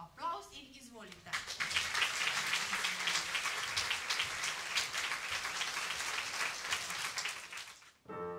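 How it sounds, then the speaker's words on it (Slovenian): Applause from the audience at a regional gathering of kindergarten choirs, following a spoken announcement, dense steady clapping that swells and continues for several seconds before cutting off abruptly. "aplavz in izvolite"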